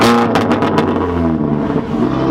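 Nissan Skyline GT-R with a straight pipe exhaust revs hard and loud up close, sharp blips rising over a rumbling idle that stays heavy and continuous throughout.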